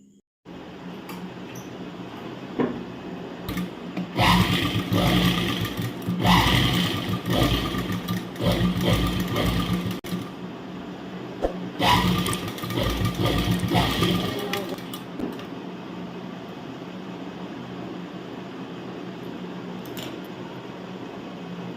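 Sewing machine stitching the side seam of fabric, a close mechanical whirring that runs in a few bursts over a steady background hum, then gives way to the hum alone.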